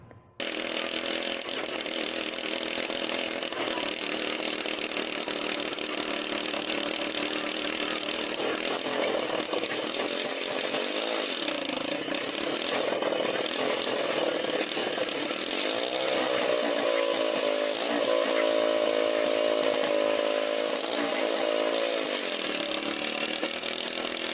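Loud, steady motorcycle engine driving a homemade helicopter's rotor, a continuous buzzing drone with a chainsaw-like rasp that holds near and unbroken throughout, with no talk.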